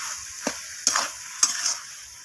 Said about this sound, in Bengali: ধনিয়া পাতাটা দিয়ে আমি আবারও নাড়াচাড়া করে নিচ্ছি